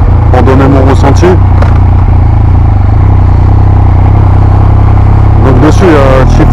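A 2020 Yamaha MT-09 fitted with an Akrapovic exhaust and quickshifter, riding with a loud, constant low engine drone and sharp rising rev sweeps near the start and again near the end.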